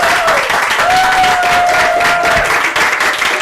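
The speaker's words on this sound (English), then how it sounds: "please give him a big round of applause" An audience gives a speaker a loud, sustained round of applause at an evening lecture event, with dense, steady clapping filling the room and no talk over it.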